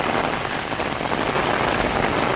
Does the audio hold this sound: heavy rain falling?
yes